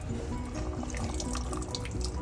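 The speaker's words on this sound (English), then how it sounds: "That's diesel fuel splashing everywhere on me." Liquid splashes and spatters steadily and close by, a dense continuous wet hiss like running water, as diesel fuel sprays from a disconnected fuel line on a 2019 Chevrolet Silverado during a fuel rail and pressure regulator replacement.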